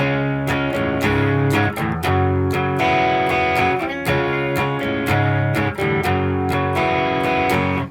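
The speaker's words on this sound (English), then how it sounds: "Sounds pretty good with distortion on as well." Distorted electric guitar plays a picked melodic line with sustained, gritty notes and brief pauses, loud and close.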